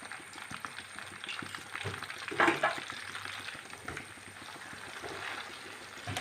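Banana chips frying in hot oil with turmeric water added, a steady close sizzle and bubbling with a brief louder hiss as the liquid goes in.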